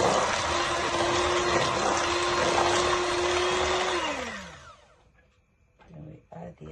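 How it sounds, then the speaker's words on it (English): An electric blender whirs loudly and steadily as it whips separated egg whites for a Ghanaian rich cake, then its motor winds down and stops, leaving brief clatter and a voice afterward. "we're gonna blend the egg whites on its own as well"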